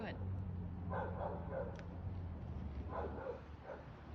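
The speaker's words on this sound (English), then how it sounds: "that's somebody else's dog barking all day too" Somewhere in the distance a dog barks in a few short, faint bursts, heard only through steady background noise and mostly masked by people talking nearby.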